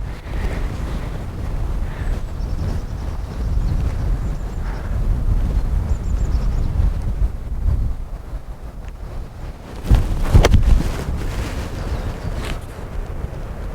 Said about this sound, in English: Completely forgot about the wind.